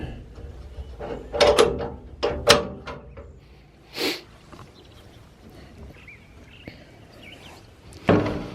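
Compartment doors on the work bed of a Ram 5500 truck opening and closing, several sharp latch clicks and thunks spaced a few seconds apart, close by, with quiet gaps between.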